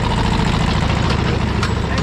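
A tractor engine for carrying children on farm rides rumbles steadily at close range at Farm Fresh @UPM in Serdang, Malaysia, a low continuous mechanical drone.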